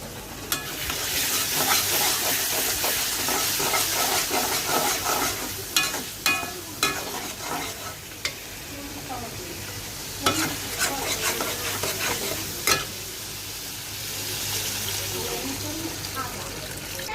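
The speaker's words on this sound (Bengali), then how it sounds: "ভালো করে ভাজা ভাজা করে মশলাটা কষাবো" Spice masala with chili powder, green chilies and a splash of water is stirred and fried in a pan, giving a steady sizzle broken by repeated scraping strokes and clinks of the spoon against the pan.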